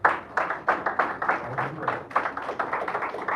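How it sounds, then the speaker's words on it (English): An audience claps steadily for a few seconds, a dense patter of many hands that is fairly even and moderately loud. "Then a round of applause,"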